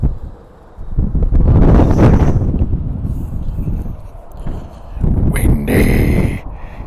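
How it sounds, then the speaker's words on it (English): Strong wind buffets a microphone beside an HGV at the Goole docks, rumbling in loud gusts that swell, ease briefly midway, then surge again. "it is windy"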